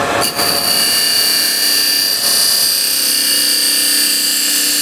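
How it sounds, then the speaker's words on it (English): A scraper cuts into wood on a spinning lathe while hollowing a turned vessel: a steady, loud, high whine with a continuous rasping scrape and no talking. "So I start to curve the scraper."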